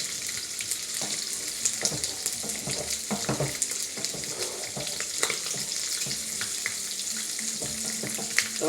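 Breakfast potatoes frying in a pan, a steady close sizzle with occasional scraping and stirring clatters throughout.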